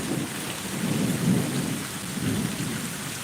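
A thunderstorm with lightning, with steady rain and deep rolling rumbles of thunder swelling twice, loud and continuous, no voices.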